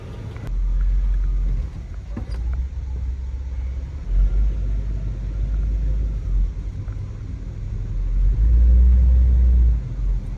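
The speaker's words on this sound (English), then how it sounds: "let's go for a drive" A 1957 Chevrolet Bel-Air engine rumbles low and steady from inside the cabin, with road noise swelling and easing as it drives along.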